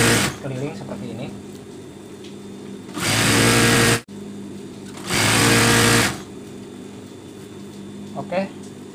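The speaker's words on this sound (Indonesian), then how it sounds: "sekarang kita tinggal jahit aja keliling seperti ini" A sewing machine stitches around a bed sheet's elastic in two loud, steady whirring runs of about a second each, with a person talking before, between and after them.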